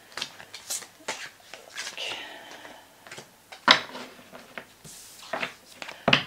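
Tarot cards are shuffled by hand in short soft riffles and taps, quiet and close, with faint speech-like sounds between them.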